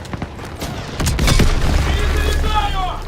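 Loud boom of a Panzerschreck rocket explosion in the Call of Duty WW2 video game, a heavy blast with rumbling gunfire and battle noise, voices shouting underneath.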